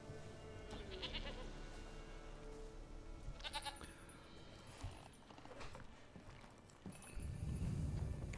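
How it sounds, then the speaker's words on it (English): A goat in The Witcher 3 bleats a few times over ambient game sound, quiet and distant, with some soft hoof-like clatter and rustling. "How about the goat I just found?"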